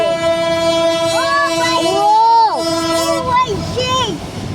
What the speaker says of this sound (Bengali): এটা তো মেট্রো ট্রেন না না ট্রেন এটা হলো তেলের